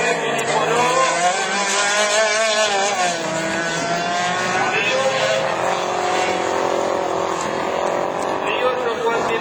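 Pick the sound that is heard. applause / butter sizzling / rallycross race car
rallycross race car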